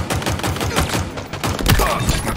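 Rapid gunfire from the Halo Infinite video game, dense bursts of close automatic shots with impacts layered over one another, continuous and loud.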